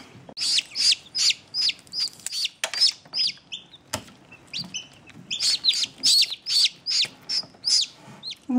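A newly hatched yellow chick peeps in rapid, high-pitched chirps, a steady run of short repeated calls, loud and close, with a few faint background knocks and no talking.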